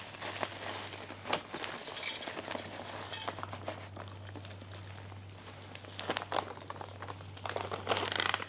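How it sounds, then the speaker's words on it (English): Potting soil mixed with plenty of perlite, opened last summer, pours straight from a plastic bag for repotting houseplants, giving a close, steady crinkling and rustling with soft patter and scattered louder crackles of the bag. "we're gonna put a little bit of soil down here. And I'm just gonna use this straight out of the bag"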